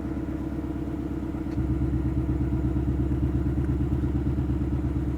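Ford Mustang Mach 1 exhaust in quiet mode, a steady low rumbling idle that thickens and grows slightly louder partway through, rhythmic and close with no talk.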